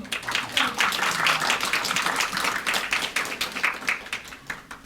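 Society members clap at a 40th anniversary ceremony, a lively roomful of distinct hand claps forming a busy, even applause that thins slightly toward the end.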